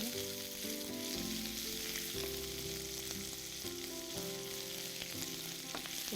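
Onions fry in a small amount of oil, making a soft, steady sizzle that sits quietly beneath sustained background music.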